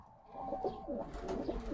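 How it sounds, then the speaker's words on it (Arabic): Domestic flying pigeons coo softly in a low, warbling murmur, several birds overlapping close by at a quiet level. "فهذا حمام المطيار"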